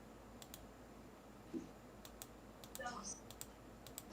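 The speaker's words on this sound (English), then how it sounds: "I accidentally moved my mouse against my keyboard." A computer mouse bumps against a keyboard, producing a few scattered light clicks and taps over a quiet room background.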